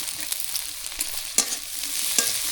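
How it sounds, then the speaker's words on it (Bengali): Dried mola fish frying in mustard oil, giving a loud, steady hiss and crackle close up, with a few sharp pops and stirring scrapes cutting through and no voices. "সরিষার তেল দিয়ে দিই মলা মাছের শুটকি দিয়ে দিই"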